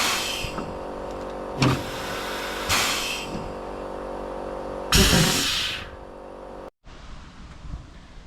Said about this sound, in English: we're gonna try the foot brake first and then try the handbrake